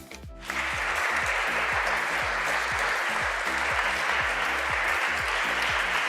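An audience applauding to welcome speaker Dante King at a book event in the San Francisco Public Library, steady sustained clapping from a crowd starting abruptly and continuing without talk.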